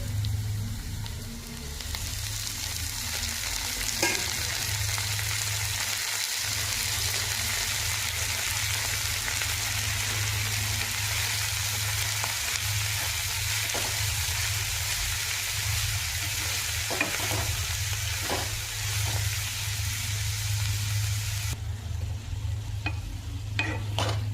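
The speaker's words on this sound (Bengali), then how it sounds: "মূলো শাকটা এইভাবে নাড়াচাড়া করে" Radish greens frying with browned onions in a pan, stirred steadily; a continuous close sizzle runs under repeated scraping stir strokes, with no talking.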